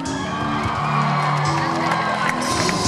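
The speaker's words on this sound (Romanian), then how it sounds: "Aplauze pentru tour managerul nostru" At an outdoor concert, a large crowd cheers and whoops loudly and continuously for the tour manager, with shouts and voices mixed into the roar and music underneath.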